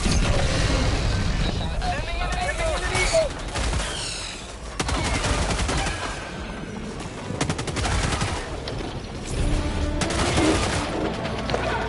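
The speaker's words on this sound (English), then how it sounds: "Calling in orbital strike." Heavy explosive impacts and sustained automatic fire roar through a Helldivers 2 co-op battle, with loud blasts and rattling volleys under occasional voices.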